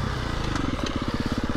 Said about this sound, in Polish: że zupełnie inaczej ten silnik brzmi